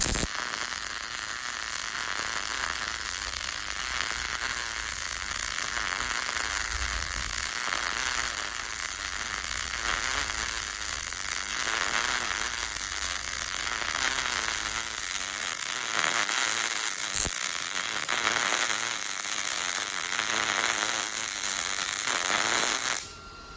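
MIG welding arc run with a pull technique: a steady, loud crackling buzz with fine sputtering texture that holds almost unbroken for over twenty seconds, then cuts off abruptly at the end.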